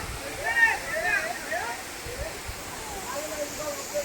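Konda Lingalavalasa waterfalls pour with a constant, broad rushing roar close by, while a person talks over the steady water noise.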